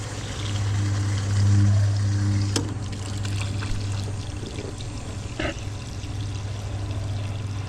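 Rusty water drains out of a neglected air conditioner unit as a steady pouring trickle under a low hum, broken by a couple of sharp clicks.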